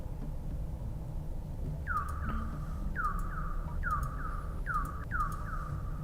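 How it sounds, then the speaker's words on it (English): A rover in the Mars survival game The Original Martians beeps as it moves, giving a string of short falling electronic chirps in pairs at an even pace over a low steady hum, with no voices. "Ignore the beep beep beep."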